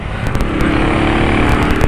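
A big motorcycle engine, one of three ridden together, roars loud and close with a steady rumbling drone and slight throttle fluctuations throughout, with no talking.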